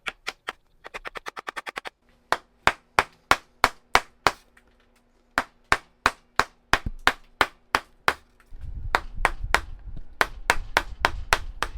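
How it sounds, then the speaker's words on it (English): A mallet driving a large number 9 carving chisel into wood while roughing out a bulldog sculpture, sharp evenly spaced knocks coming first in a quick burst, then in a slower steady rhythm, with rustling and scraping at the end. "I use a big number 9 chisel to carve around the nose and jowls."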